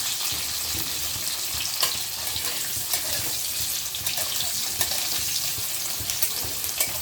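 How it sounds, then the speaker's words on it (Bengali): Large-cut onions and capsicum fry in hot oil for a spicy Bengali-style chicken dish, a constant loud sizzle with repeated scraping and clacking from a spatula stirring the pan. "ক্যাপসিকামগুলো পুরোপুরি ভাজা হওয়ার দরকার নেই, একটু নাড়িয়ে নিয়ে"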